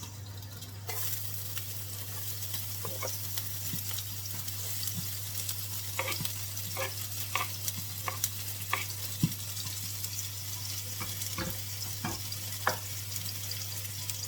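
Garlic and onions fry together in a pan, alongside plantains, with a steady hiss of sizzling oil over a low constant hum. Intermittent spoon clicks and scrapes mark the stirring, and nobody speaks.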